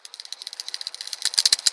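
A plastic Beyblade engine gear being wound gives a fast, fine ratcheting rattle, up close and fairly quiet, with clicks speeding up and growing louder toward the end; no talking.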